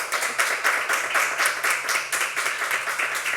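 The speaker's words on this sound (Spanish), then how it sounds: "Yo creo que los ponentes se merecen un aplauso" An audience at a round-table discussion applauds the speakers, many hands clapping together in a lively, steady patter that swells in quick pulses, with no talk over it.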